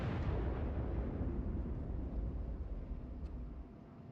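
Heavy naval gunfire from the USS Iowa battleship in World of Warships: a loud, deep boom and its long rumbling decay, trailing off slowly with no talk.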